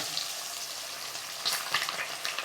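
Chicken fries in hot oil with a steady, close sizzle and occasional louder crackling pops. No talking is heard.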